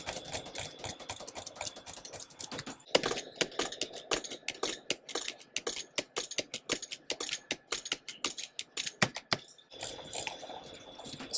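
Rapid keyboard key taps mixed with mouse clicks during Minecraft moonwalking, a dense run of sharp, close clicks in quick irregular bursts, with a brief busier stretch of clicking at the start and end.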